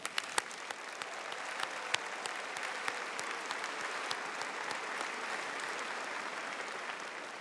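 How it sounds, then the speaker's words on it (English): An audience at a university graduation ceremony claps steadily, many hands producing a continuous patter of applause with a few sharper claps standing out. "Let's give them a round of applause."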